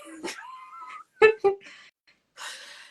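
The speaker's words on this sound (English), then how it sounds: "this is my dog." A pet dog makes brief whimpering yips and soft vocal sounds, close and fairly quiet, with short gaps of silence between them.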